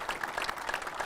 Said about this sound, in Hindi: हमारे लिए जरा तालियां हो जाए आज